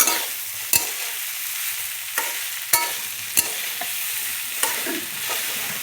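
Mustard greens being sautéed in a pan, with a steady close sizzle broken by several sharp scrapes and knocks of a spatula stirring at uneven intervals, no voices.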